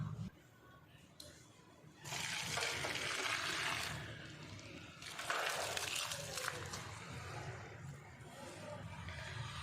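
A steady rushing pour of water draining off cooked rice, rising loud for a couple of seconds, easing, then surging again before settling into a softer trickle.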